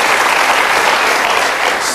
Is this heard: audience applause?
yes